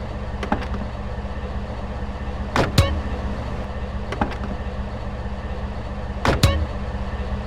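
Taxi doors in GTA San Andreas open and shut in two pairs of sharp clunks, spaced a few seconds apart, over a steady low engine idle.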